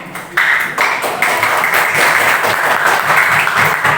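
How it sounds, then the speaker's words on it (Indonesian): A classroom audience applauds after a group presentation during a teaching practice session: dense, continuous clapping close by, steady for several seconds with no talking over it. "Beri tepuk tangan."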